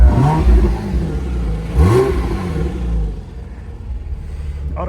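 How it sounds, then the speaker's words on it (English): A Porsche 997 engine runs close by with a steady low rumble, swelling in a brief rev near the two-second mark before settling back to idle. "And it's been idling, like I said, 30-40 minutes"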